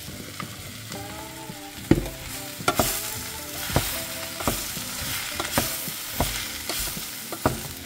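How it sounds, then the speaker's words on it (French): Onions browning in olive oil with mushrooms added, frying in a pan with a crackling sizzle punctuated by regular sharp scrapes and knocks of stirring, close and without talk. "Ça y est, mes oignons commencent à dorer. Je vais mettre les champignons."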